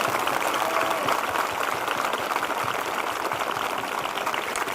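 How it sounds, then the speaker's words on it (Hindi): Loud, sustained applause from a church congregation at a Sunday evening prayer meeting, dense clapping filling the whole stretch at a steady level with no pause. "जिनके हो चुके हैं वो जोरदार ताली बजाकर धन्यवाद दें।"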